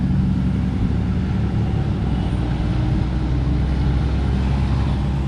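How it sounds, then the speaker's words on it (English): Steady road traffic rumbles continuously near a small Amtrak station in South Portsmouth, Kentucky, a loud, unbroken wash of passing vehicles with no voices over it. "There's going to be some noise from all this traffic."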